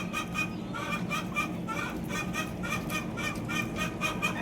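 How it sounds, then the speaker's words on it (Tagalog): Chickens making repeated honking, squawking calls in a steady, busy stream, fairly close, with faint background noise and no clear talking. "Ingay ng manok."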